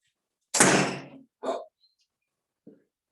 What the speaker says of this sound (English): I gotta close these doors. Ready? They're loud.